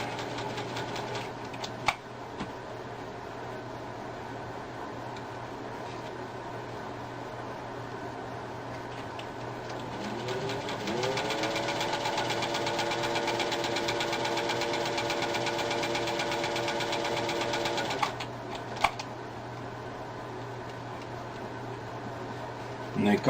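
A 1950 vintage Singer 201-2 sewing machine runs with a steady, smooth mechanical whir, picking up to a faster even hum midway before stopping, with a voice speaking over parts of it.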